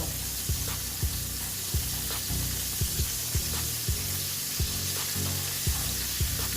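Pancakes frying in oil in a pan give a steady, loud sizzle throughout, with regular soft tapping or scraping sounds at roughly half-second to one-second intervals.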